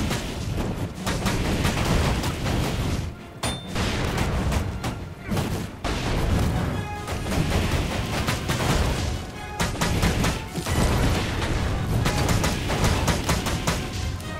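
Dense gunfire and booming blasts from Guild Wars 2 combat pound almost continuously, with brief lulls between rapid volleys and someone speaking German underneath.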